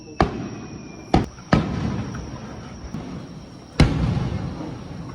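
Fireworks at a summer festival in Japan in August: four sharp booming bursts spaced irregularly, each with a crackling decay, over a steady background hum.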